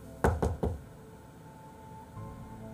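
Three quick, solid knocks on a hotel room door in a steady rhythm, close and loud, followed by quiet room tone.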